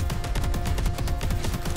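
Rapid volley of gunfire from a new gun in the action game Scathe, a dense run of repeated loud shots with steady rhythm and no talking.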